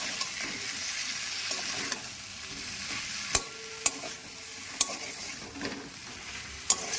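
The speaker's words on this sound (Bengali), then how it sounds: "আবার দু তিন মিনিট ভাজবো আমি মাছটা ভেজে নিয়েছি" Sea fish cooks in spicy masala with capsicum in a pan, a steady sizzle with scraping stirs and sharp utensil clacks spaced every second or so, close and alone without talk.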